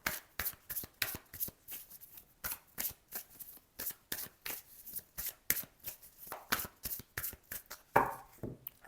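Tarot cards are shuffled by hand close up in quick, crisp riffling bursts with short pauses between them, sharp papery slaps repeating steadily and alone without any speech.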